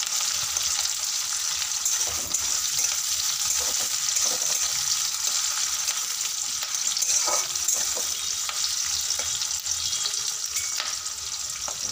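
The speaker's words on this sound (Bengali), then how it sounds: "তেলের মধ্যে পেঁয়াজটা দিয়ে একটু হালকা ফ্রাই করে নিচ্ছি।" Onions lightly frying in oil in a pan for a spiced chicken dish, giving a steady, close sizzle with faint stirring scrapes and no one talking.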